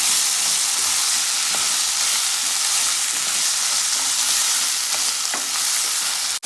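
A heaping tablespoon of tomato paste hits a hot frying pan and sizzles loudly and steadily, a dense, close hiss with faint stirring clicks that continues unbroken until an abrupt stop at the end.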